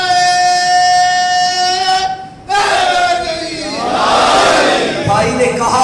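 A crowd at a Muharram majlis roars the Shia slogan Nara-e-Haidari in loud unison, with a sustained chanted call at first, then a brief gap and a swelling mass response of many voices.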